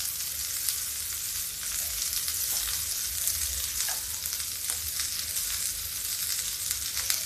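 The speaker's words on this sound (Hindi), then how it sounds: "गैस को तेज करेंगे। अब इसमें डालेंगे थोड़ी भिंडी।" Okra (bhindi) fries in a hot pan over a high gas flame, a loud, steady, crackling sizzle with scattered pops and some stirring, continuous and close with no voices.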